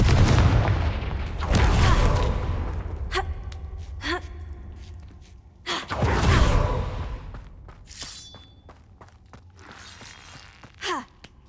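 Spell explosions from the Confringo fire curse in a Hogwarts video game land as a few heavy booming bursts, spaced seconds apart, with whooshing casts and softer magical effects in between and no talking.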